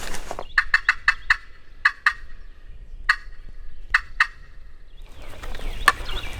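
A wild turkey gobbles repeatedly in rapid rattling bursts, loud and nearby, with short pauses between calls over a quiet outdoor background in Alabama swamp woods.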